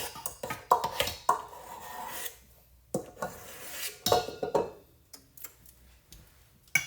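A spatula scraping cake batter from a measuring cup for a pink and green marble bundt cake, heard as a run of close, uneven clicks and taps against the cup, with quiet gaps between strokes.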